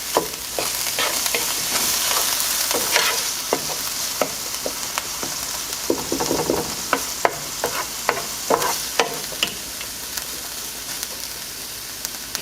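Vegetables for chiles en nogada sautéing in a pan, a continuous sizzle with frequent scraping and stirring clicks for over ten seconds, close and moderately loud, with no speech.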